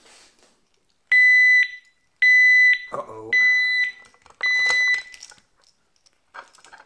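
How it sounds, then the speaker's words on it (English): Oxford Max Duo D-lock alarm on a 650B-wheel bike with a large frame lets out four loud, shrill electronic beep bursts in quick succession, and a person exclaims briefly between them. "We nearly set the alarm off then"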